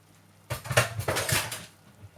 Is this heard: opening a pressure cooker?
yes